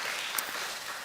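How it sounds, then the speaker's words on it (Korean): Applause from a church congregation during a Sunday morning worship service, a dense, steady patter of clapping heard from a distance for about a second. "우리 이지원 집사님, 조한빈 청년께서 2부 예배 후에 등록을 하셨는데 저 뒤에 계신 분들 박수로 환영하시죠."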